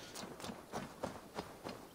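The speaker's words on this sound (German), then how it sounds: "Ich dachte, ich hätte gerade Pferdegetrappel gehört." Horse hooves clip-clopping in Assassin's Creed Valhalla, a steady run of about seven evenly spaced soft hoofbeats at moderate distance over quiet game ambience.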